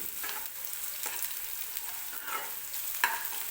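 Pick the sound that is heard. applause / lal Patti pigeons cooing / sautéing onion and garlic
sautéing onion and garlic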